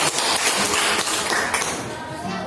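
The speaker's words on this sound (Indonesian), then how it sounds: "Kasih aplaus lagi, tepuk tangan buat kita" Clapping from a small class of students during a teaching session, a brisk patter of hands with a few sharper taps, fading slightly toward the end.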